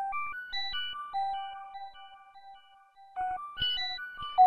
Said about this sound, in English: this is what it sounds like without any effects